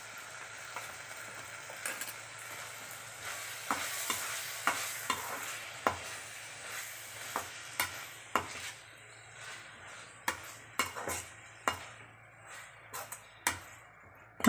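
Mutton gravy with garam masala sautéing in a pan, a steady close sizzle broken by repeated sharp scrapes and clinks of a spoon stirring against the metal, with no voices.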